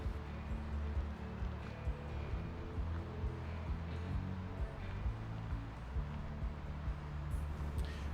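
A faint, steady rush of flowing water comes from Grizzly Creek and the Colorado River in the snowy Colorado Rocky Mountains, with low rumbling underneath and a few brief soft knocks, and no one speaking.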